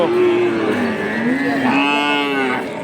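A Friesian bull calf moos loudly and close by at a cattle market, a long drawn-out bellow that rises in pitch partway through and holds for nearly three seconds.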